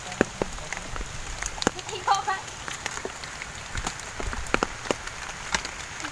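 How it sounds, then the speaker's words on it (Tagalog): Heavy rain with big drops falls outdoors, pattering densely and irregularly on surfaces close by, with sharper individual drop hits throughout and faint voices underneath. "Ang lalaki ng patak eh."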